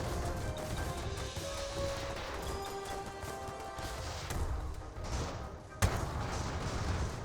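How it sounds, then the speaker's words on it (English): Airships drop bombs in Airships: Conquer the Skies, a dense battle of thuds and crashes with tonal game sounds underneath and a sharp loud impact near the end. "they're dropping bombs on us"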